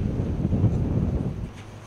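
Strong wind buffets a camera microphone outdoors, a loud low rumbling roar with uneven gusty swells, steady throughout and easing slightly toward the end, no talking.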